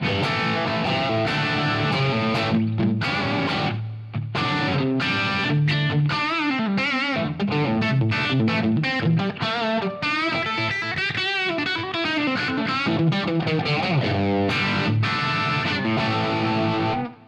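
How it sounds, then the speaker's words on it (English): A loud, continuous electric guitar with heavy overdrive distortion, playing dense riffs and sustained chords with a thick, saturated tone. "when I switch on the drive, you can hear the difference"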